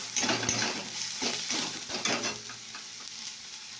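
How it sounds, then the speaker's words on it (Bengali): A spice paste (masala) is stir-fried in a pan, with a steady close sizzle and frying hiss and repeated scraping strokes of a spoon against the pan. "কষা হচ্ছে মশলাটা"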